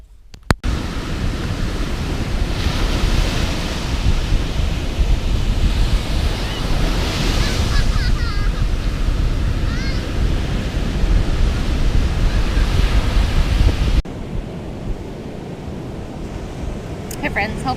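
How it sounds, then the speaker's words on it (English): Strong, steady wind buffets the microphone over the roar of surf on a shore, continuous and loud, then briefly quieter near the end. "It's pretty windy here."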